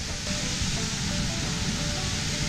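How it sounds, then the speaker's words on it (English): Long Creek Falls on the Appalachian Trail in Georgia cascades in a loud, continuous broadband roar of falling water, steady and close with no other sounds. "here we are coming up on Long Creek Falls. Been hearing it."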